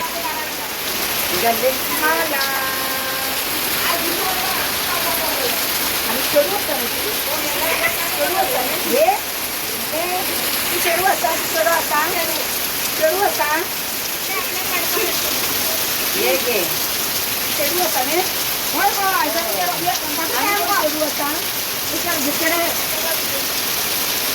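Steady rain hisses continuously throughout, with several voices talking and calling out intermittently over the downpour.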